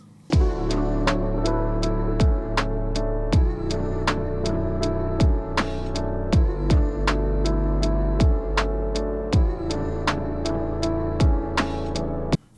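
A mellow lo-fi hip-hop beat plays alone, with soft piano chords over a steady, punchy kick and snare groove that continues throughout.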